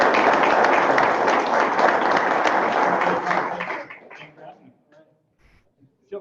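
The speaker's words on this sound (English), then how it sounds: "let's give Andrew a huge round of applause for his" Audience at a fireside chat event giving a dense, loud round of applause for about four seconds, then fading to a few scattered claps and near quiet.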